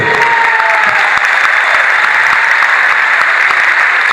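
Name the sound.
audience applause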